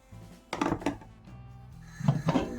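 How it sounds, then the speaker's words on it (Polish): A metal pot filled with water set down for pasteurizing jars of pickled cucumbers: two clusters of close, ringing clanks and knocks against a quiet kitchen background. "Teraz wodę wstawiłem do garnka."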